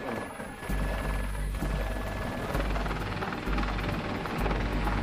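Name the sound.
helicopter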